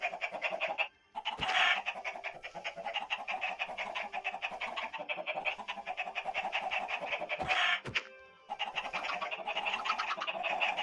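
Chickens in a video game cluck continuously in dense overlapping calls, loud and close, with a couple of brief pauses and sharp clicks breaking the flock noise.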